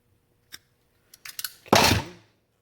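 Scissors snip double-sided tape for an RC car rebuild, with a few light clicks and taps before one louder, crisp cutting sound that lingers briefly, close and alone.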